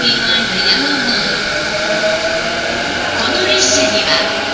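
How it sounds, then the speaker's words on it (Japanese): A JR E231 series out-of-service train pulls into Ueno Station, its steady rumble and rising motor whine running loud and continuous beneath a platform announcement voice. "Track number 5 is an out-of-service train."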